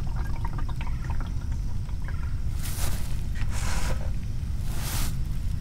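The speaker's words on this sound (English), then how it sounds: "Fill that watering can up." Rainwater poured from a bucket into a watering can, a steady gushing splash over a low rumble, with a few louder surges of pouring.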